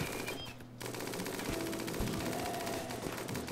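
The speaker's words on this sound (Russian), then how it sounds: "Он стреляет в наших верблюдов." Rapid automatic gunfire from a firefight in RimWorld, a steady rattling burst of shots that runs almost continuously, loud and close, with no talking over it.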